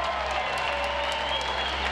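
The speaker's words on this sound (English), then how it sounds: "You guys want to cheer again for the" A crowd at a Grade 1 horse race cheers and applauds after the undefeated mare Zenyatta's win, a dense, steady roar heard briefly.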